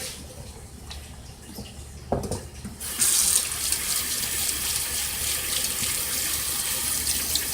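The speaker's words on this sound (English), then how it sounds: "I'm going to wash my hands here" Running tap water streams steadily while hands are washed under the faucet in a home kitchen after handling raw chicken; the flow starts abruptly and continues close and loud, with no talking.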